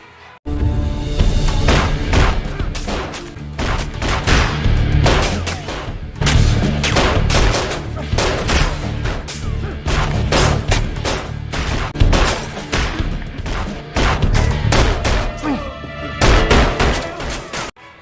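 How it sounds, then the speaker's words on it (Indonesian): Dense gunfire fills a gangster film shootout, rapid loud shots and booms cracking in quick irregular bursts almost without pause throughout, no talk heard. "baku tembak pun terjadi"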